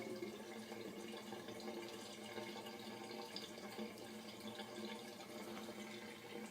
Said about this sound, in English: this will continue draining and kind of fill up our sump reservoir